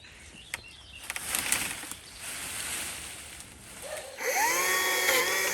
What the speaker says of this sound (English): Very impressive early morning chainsawing going on here.